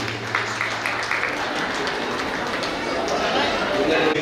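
Crowd applause at a family gathering in Pune, a dense steady wash of clapping that fills the clip, with a faint tonal hum early on and no clear voices.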